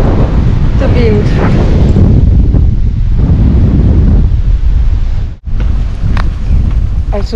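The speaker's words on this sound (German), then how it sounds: "Also mit den Windböen" Loud, gusty northeast wind at a lakeside camp by the Rothsee pounds the microphone in a rough, continuous rumble with one brief lull partway through, and someone speaks intermittently over the roar.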